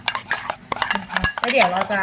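A spoon scrapes and clinks against a bowl while stirring puppy food mixed with goat milk protein, close and busy, with someone speaking briefly over it.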